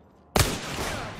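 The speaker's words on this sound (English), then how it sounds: "Getting shot at." A single sharp gunshot in Apex Legends cracks out of silence, loud and close, followed by a short ringing tail with a few further faint reports.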